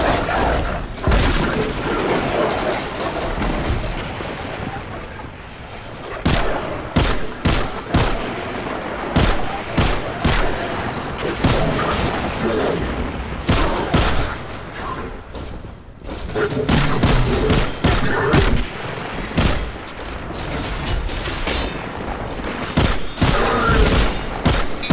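Gunfire at turrets in Destiny 2, repeated loud shots in quick volleys with booming impacts and mechanical clanks running throughout, near and dense.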